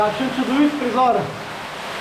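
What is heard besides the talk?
cave waterfall in Belojača cave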